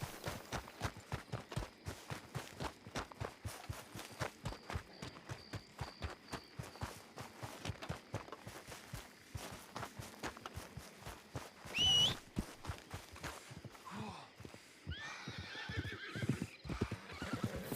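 A horse walks with a close, regular clip-clop of hooves, then neighs loudly partway through and whinnies again near the end.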